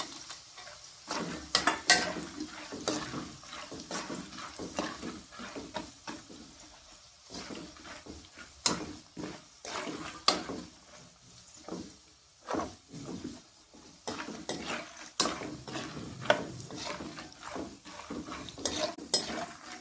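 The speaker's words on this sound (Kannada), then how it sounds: "ಇವಾಗ ಅದೇ ಎಣ್ಣೆನೇ ಜಾಸ್ತಿ ಕಾದಿದೆ ಹಾಗಾಗಿ ಅದರೊಳಗೇ ಕರಿತಾ ಇದ್ದಾವೆ" Four red chillies frying in very hot oil in a pan for Karnataka churumuri, with repeated clanks of a spoon stirring against the pan over a low background sizzle, moderately loud and close, no talking.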